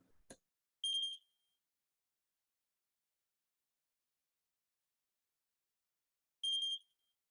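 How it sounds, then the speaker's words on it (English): A smoke alarm sounds two short, shrill electronic chirps several seconds apart after a faint click, with silence in between. "essentially triggered our smoke detector as well"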